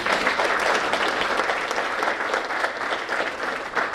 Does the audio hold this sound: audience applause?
yes